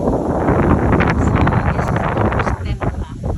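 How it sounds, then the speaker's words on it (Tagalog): Strong wind gusts through a park where the trees are swaying, roaring and buffeting the microphone loudly and continuously, with rustling and a few brief dips in strength. "Ayan, ang lakas ng hangin oh."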